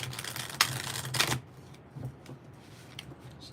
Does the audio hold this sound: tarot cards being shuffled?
yes